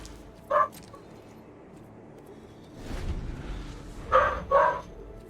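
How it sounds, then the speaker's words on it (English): A dog barks loudly and close by: one sharp bark early, then a pair of barks near the end, with quieter background noise in between. "That is a loud ass dog."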